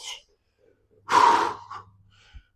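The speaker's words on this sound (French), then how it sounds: "Alors je suis un peu essoufflé parce que j'ai de l'asthme." One heavy, gasping breath from a man out of breath with asthma after a bench press set, a loud rushing exhale close to the mic, followed by a softer breath and a faint thump.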